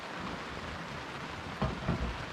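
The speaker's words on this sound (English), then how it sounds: "And the rain hasn't stopped." Steady rain falls on a cruising boat at anchor in Desolation Sound on a Sunday morning, a constant close hiss of drops with a couple of soft low thumps near the end and no voices.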